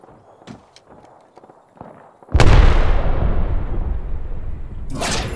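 An Arcstar grenade is thrown in Apex Legends: after some light clattering footsteps, a sudden loud burst erupts into a sustained crackling electrical roar that fades slightly before a final sharp hiss.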